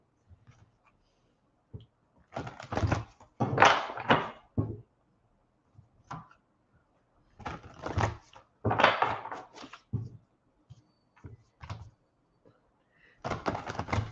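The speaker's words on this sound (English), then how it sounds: "So I should get some good shuffles in." Three bursts of riffling card shuffles, each a rapid flutter of snapping cards followed by soft taps, separated by quiet pauses.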